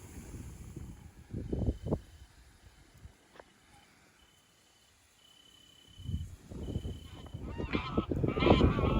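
Birds calling in a windy park, with bursts of loud honking calls close by around the second mark and a busier, overlapping stretch of calls from about six seconds to the end.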